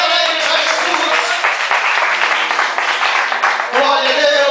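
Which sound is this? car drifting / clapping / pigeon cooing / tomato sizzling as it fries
clapping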